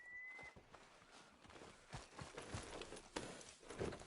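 Horse hooves clopping at a walk in the video game Red Dead Redemption 2, a steady rhythmic series of soft, close steps over quiet ambient game background.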